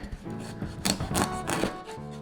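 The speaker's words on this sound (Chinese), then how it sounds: "先把腊肉切片" A knife slices through leftover cured pork on a board, making a few sharp cuts over a low musical background.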